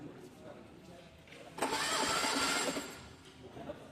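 A car engine cranks on its starter during a cylinder compression test, a steady broadband whirring burst of about a second and a half rising from quieter background noise, then fading.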